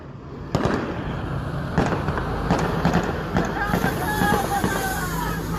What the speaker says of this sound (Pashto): د خوشحالۍ ډز هم شروع دي دوستانو.